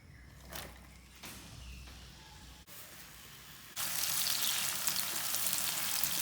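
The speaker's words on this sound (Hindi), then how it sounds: "प्याज को ना हल्का ब्राउन करना है।" Onions frying in oil toward light browning, starting with quiet scattered noises and then a loud, steady sizzle that takes over for the last seconds.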